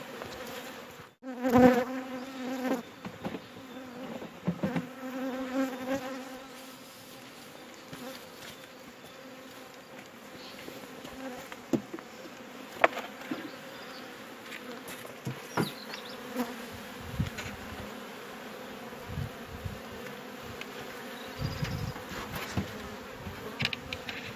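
Honey bees at an open beehive make a steady close buzz lasting throughout, with scattered soft knocks and handling sounds from the hive, and no one talks.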